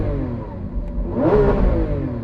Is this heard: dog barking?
no